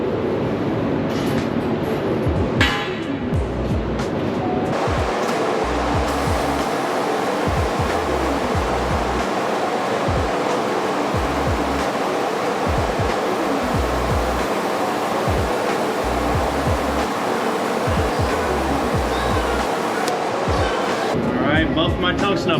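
A TIG (GTAW) arc hisses steadily on a welding test plate in the 3G vertical position for the AWS D1.1 test, a continuous close buzzing rush with a regular low pulsing throb underneath.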